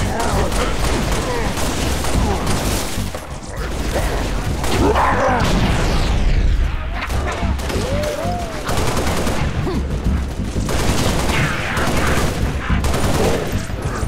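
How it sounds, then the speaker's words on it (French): Dense gunfire in the video game Halo Reach, continuous bursts of automatic shots and booms filling the scene loudly, with radio-style voices speaking over the combat. "L'ennemi me tire dessus."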